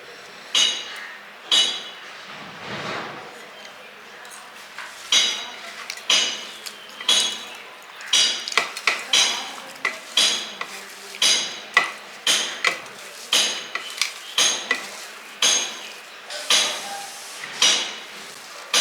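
Ingredients smashed by hand in a home kitchen before chopped onion and green chilli go in, heard as a long run of sharp clinking, pounding knocks at an irregular rhythm, close and fairly loud, with no talk.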